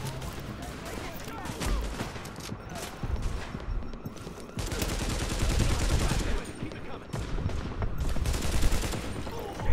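Dense gunfire and bursts from shooting in the video game The Division, rapid repeated shots crackling throughout amid busy game noise, fairly loud and continuous.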